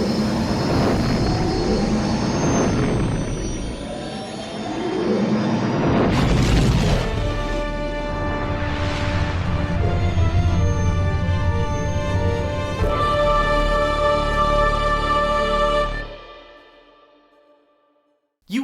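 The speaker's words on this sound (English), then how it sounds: "We are ready to make the jump to hyperspace." A starfighter in LEGO Star Wars: The Skywalker Saga jumping to hyperspace: a roaring engine rumble builds into a booming, swelling whoosh, then a sustained bright tonal drone that cuts abruptly to silence.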